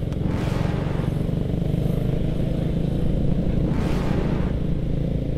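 Motorcycles and cars idle and creep through a traffic jam in a narrow alley, engines rumbling continuously nearby with occasional revs swelling past.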